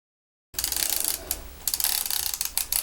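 Film being wound on in a Yashica Mat 124G twin-lens camera: after silence, a steady run of close, crisp ratcheting clicks from the winding crank, with short pauses in the rhythm.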